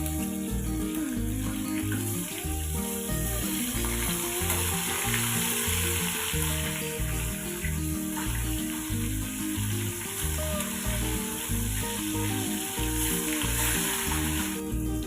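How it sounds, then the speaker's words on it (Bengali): Rohu fish fry in hot oil, a steady dense sizzle running loud and continuous for the whole stretch with no talk over it, while low rhythmic background music plays beneath. "মাছগুলো আমি দুটো সাইডে ভালোভাবে ভেজে নেব।"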